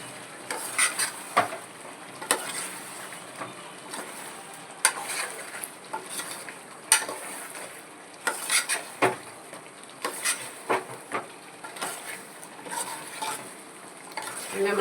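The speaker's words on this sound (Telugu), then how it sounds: "ఇప్పుడు వేసుకున్నాం కదా, ఒకసారి తిప్పుకుందాం." Chicken curry with chilli powder being stirred in a pan, irregular scraping and clinking of a spoon against the pan over a soft continuous sizzle, close and fairly loud.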